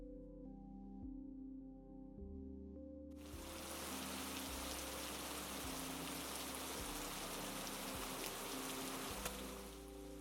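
Heavy rain suddenly starts as a dense, steady hiss and keeps pouring for the rest of the scene in a French beginner's story set near a forest. A low, soft music bed continues underneath.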